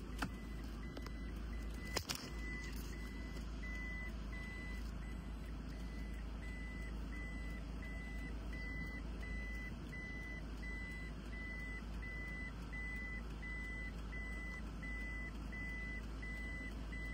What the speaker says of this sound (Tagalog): meron siyang reverse sensor pinakabitan